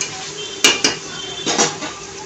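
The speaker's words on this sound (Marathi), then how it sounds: "आपण आता ह्याच्यामध्ये शेंगदाणे टाकायचे आहेत" Peanuts are tipped into a cooking pan for vangi bhat, giving a few close metallic clinks and rattles in two short clusters, with a light scraping sound between them.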